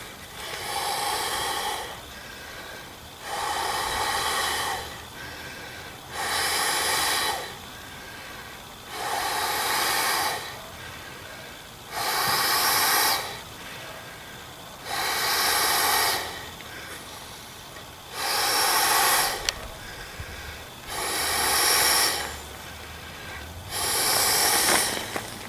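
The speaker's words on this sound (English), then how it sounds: "Takes about 10 breaths to air it up." Ten long breaths blown by mouth into an X-pattern sleeping pad, each a breathy rush of air lasting about two seconds, separated by short pauses in an even rhythm, close and clear.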